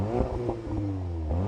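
An Audi TT-S Roadster engine revs a few times nearby, the low droning note rising and falling in short blips over a steady idle, with light mechanical clatter and no voices.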